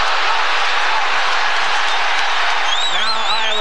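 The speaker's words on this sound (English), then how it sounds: "the crowd really getting into it" Basketball arena crowd at an Iowa State home game against Kansas cheers loudly and continuously through a comeback surge, a dense roar of voices and applause, with whistles rising near the end.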